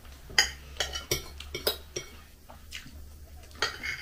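A spoon scrapes and clinks against a dish holding fried pea pods and salad, several sharp metallic taps and scrapes spread across a few seconds, close and moderately loud with no talking.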